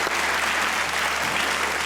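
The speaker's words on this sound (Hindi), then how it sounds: "तो हो जाए बेबी बाजी के लिए तालियां" A studio audience at a comedy talk show claps in a dense, steady burst of applause that stays loud and even for about two seconds, with no voice over it.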